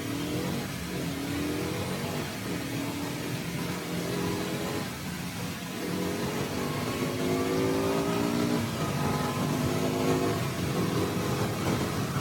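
A 2020 KTM RC 125 motorcycle's 125cc engine revs and accelerates repeatedly, its pitch climbing through the gears, recorded close with steady wind noise.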